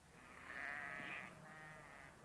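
Sheep bleating in a field, one drawn-out quavering bleat followed by a shorter second call, faint and somewhat distant against soft outdoor background noise.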